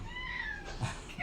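A cat meows in the background, its short tonal cries rising and falling over a steady low room hum with no talk.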